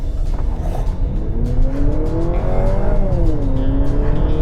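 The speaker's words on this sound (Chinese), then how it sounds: "现在我们就来做一个0-100加速啦" A Honda CR-V RS hybrid accelerating from 0 to 100 km/h gives a steady, loud engine drone inside the cabin, its tone climbing smoothly, dipping briefly at a shift, then rising again under road noise.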